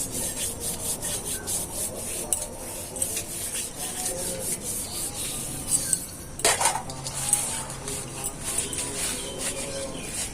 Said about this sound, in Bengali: আরো খুব ভালো করে মেজে নেব, মেজে চকচক করে তোমাদের দেখাবো।